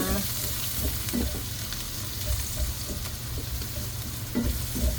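Chopped garlic sautéing in butter in a pan for chop suey, a steady close sizzle with periodic scraping strokes of stirring, moderately loud with no talk.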